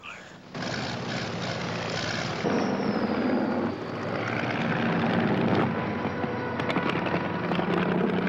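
A burning aircraft comes in to land, its engine drone a steady, loud roar that swells and holds throughout, with no talk over it.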